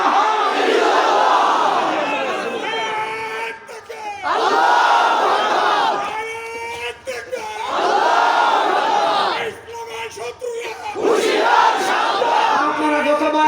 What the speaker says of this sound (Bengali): আমাদের স্লোগান হবে লা ইলাহা ইল্লাল্লাহ।